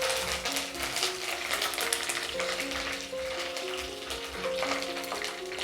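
Mustard seeds, a couple of dried red chillies and plenty of curry leaves sizzle in hot oil for a Kerala-style prawn curry, giving a continuous soft crackle beneath background music.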